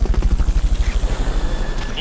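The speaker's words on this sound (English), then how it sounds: "Fulton Recovery subject confirmed onboard helicopter." A rotor-thumping helicopter for the Fulton Recovery in the video game Metal Gear Peace Walker, loud and close, its rapid, regular blade chops beating steadily then smoothing slightly toward the end, with no voices.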